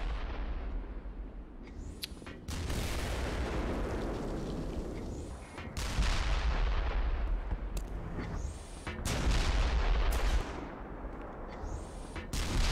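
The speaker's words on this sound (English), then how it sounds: "You can't use rockets, because the machine gun will kill you." Gunfire rattles in bursts during Black Mesa combat on the Surface Tension level, with booming blasts and explosions layered over loud, sustained battle noise, no voices.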